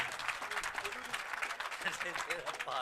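Applause from the audience at an All India Mushaira poetry gathering in Nagpur, a dense, steady patter of many hands clapping throughout, with crowd murmur and a voice speaking faintly underneath.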